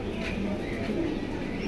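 Pigeons coo in a cage at a pigeon sale, with soft low calls that rise and fall amid steady background noise and no talk.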